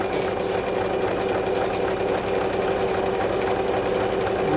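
A Brother XL-2600i sewing machine stitches a zigzag finishing edge, giving a continuous, fast mechanical whirring hum close by at steady volume.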